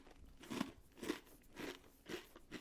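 Crunchy seven-layer-dip flavoured pulp snack bitten and chewed close to the mic during a taste test, five distinct crisp crunches at a steady rhythm with quiet pauses between.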